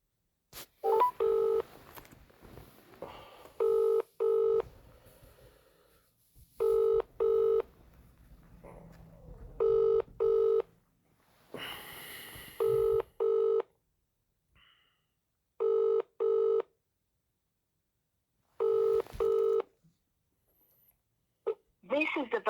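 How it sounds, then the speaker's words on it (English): A UK mobile phone call to a Vodafone number ringing out: repeated double-burst ring tones in an even rhythm with gaps of silence between, fairly loud and clear, with faint background noise in the pauses. "Ring up Christopher Browell"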